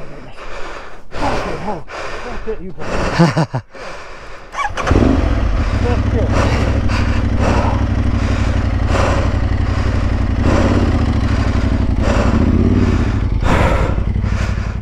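Aprilia Tuareg 660 motorcycle engine idling on a trail ride in the Yorkshire Dales, a loud steady rumble taking over after several seconds of close breathing, gasps and talk.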